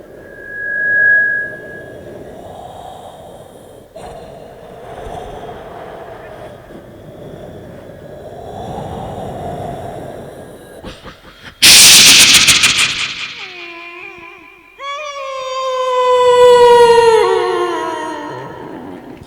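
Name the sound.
voice imitating horror film wind, thunder, dogs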